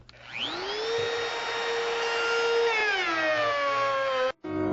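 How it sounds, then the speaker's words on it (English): A handheld wood router cutting a dado spins up to a loud, steady, high motor whine, shifts pitch as it works through the wood, then cuts off abruptly. "I'm making sure I'm pushing down with the router as I get out here"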